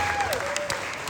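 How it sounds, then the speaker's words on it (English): A comedy club audience breaks into brief applause and scattered cheering, a dense burst of clapping with a faint whistle-like tone running through it. "And I get a little cheer."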